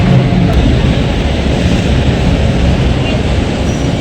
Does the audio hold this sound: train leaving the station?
yes